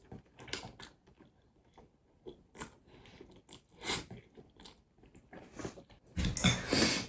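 Someone eating jjajangmyeon noodles close up, with soft slurps, bites and chewing sounds in irregular bursts, and a louder burst at the end.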